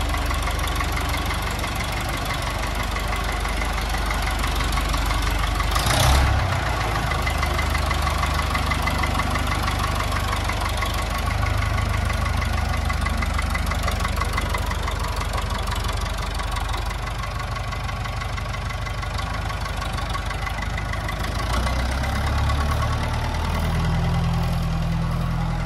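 A Leyland 602 tractor's diesel engine runs steadily, a rough, knocking mid-to-low drone that carries on close and unbroken as the tractor drives out of a shed.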